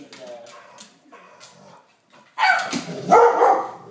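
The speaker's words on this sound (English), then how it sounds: "No barking." A dog whimpers softly at first, then lets out loud, close, sharp barks and yips in a short burst near the end.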